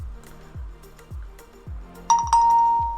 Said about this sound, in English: My phone just dinged.